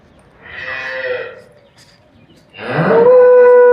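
A freshly calved cow at a cattle sale moos twice nearby, a shorter low call followed after a pause by a louder, longer drawn-out moo.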